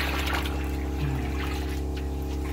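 Water circulates through a tilapia tank's water system, a steady droning pump hum with soft trickling and gurgling running continuously and close by, with no talking.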